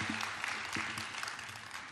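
Faint, distant audience applause at a community meeting, a soft continuous patter of clapping heard from afar with a voice briefly underneath.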